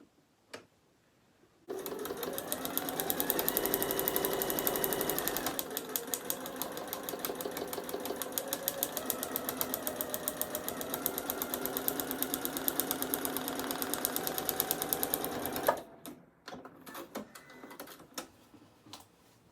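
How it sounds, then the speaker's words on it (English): Sewing machine stitching a paper-pieced Christmas star, a close, steady rapid rattle running for about fourteen seconds with a slight pause and speed change partway, then a few short bursts as it stops. "I'm sewing way up here."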